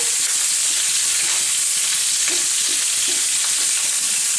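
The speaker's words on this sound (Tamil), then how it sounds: "கருவேப்பிலையை உருவி மேலே தூளிச்சு லைட்டாக ஒரு மாதிரி கிண்டி விட்டுட்டு" Chicken fry being stirred in a pan with curry leaves, a loud, constant, hissing sizzle close up, with soft scraping stir sounds surfacing now and then.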